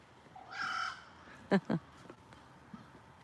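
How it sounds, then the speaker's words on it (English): A grackle gives a loud, harsh call, followed by two sharp, raspy squawks in quick succession, with faint background noise and no talking. "A grackle. That's a grackle."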